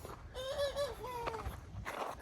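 Chickens give odd, drawn-out honking calls with a wavering pitch, several short cries in a row, fairly faint and heard without talk.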